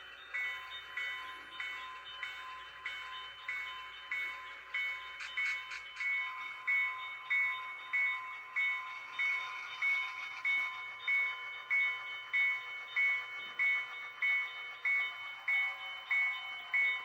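An HO scale model train rolls along a home layout in a steady, rhythmic clickety-clack of wheels over rail joints, joined by a continuous high ringing tone from a grade crossing signal, fairly quiet and with no talking.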